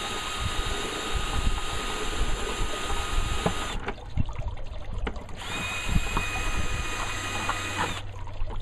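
A power drill whines steadily and cuts through a plastic bucket, the grinding motor pausing briefly before starting up again, close and loud.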